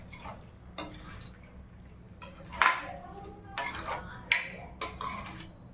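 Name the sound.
stirring paneer butter masala with coriander in a pan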